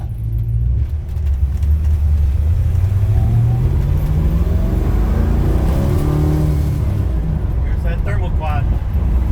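A 1973 Dodge Charger with a big 440 V8 and four-speed accelerates hard and briefly breaks traction, its loud deep engine roar climbing steadily in pitch, with tire noise rising toward the end.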